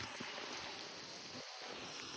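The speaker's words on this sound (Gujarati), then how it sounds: "વરસાદ પાછો ચાલુ થઈ ગયો છે" Steady rain hisses across the whole clip, a dense even patter with a brief muffled gap partway through.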